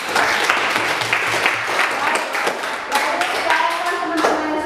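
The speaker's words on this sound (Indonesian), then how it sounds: "Kasih aplaus dulu untuk teman-teman." Classmates in a classroom clap together, steady close applause filling the whole stretch with a few sharper individual claps and some voices mixed in.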